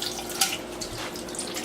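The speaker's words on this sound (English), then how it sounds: "We're gonna rinse with some cold water, just like that." Cold water runs from a kitchen tap over a bundle of asparagus held together with rubber bands, giving a soft, steady trickle and spatter that stays fairly quiet and continuous.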